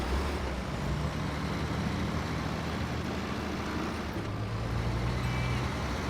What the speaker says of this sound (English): you can probably hear in the background, have some real trucks going down the road